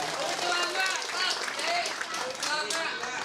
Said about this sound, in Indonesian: Tepuk tangan buat Bapak Kepala Desa kita.